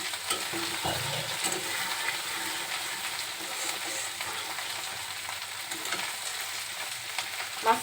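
Rohu fish simmering in mustard sauce in a pan, stirred now and then, giving a steady close sizzle with soft scraping and stirring noises throughout, no talking.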